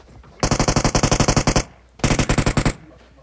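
Automatic gunfire in a video game as a player shoots a bot: two loud close bursts of rapid, evenly spaced shots, about thirteen rounds then a short pause and about nine more.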